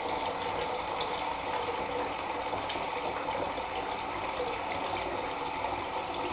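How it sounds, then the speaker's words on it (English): Water gushes steadily from a faucet gadget into a bucket, a continuous, even rushing and splashing that holds at a constant level throughout with no pauses. "that's a substantial amount of water coming out"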